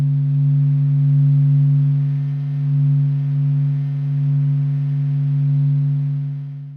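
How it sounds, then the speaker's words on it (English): Sonified solar data meant as the sound of the sun: a steady, loud low hum with stacked tones, slowly pulsing in level, continuous and alone for several seconds. "For example, this is the sound of our sun as it blazes through the day."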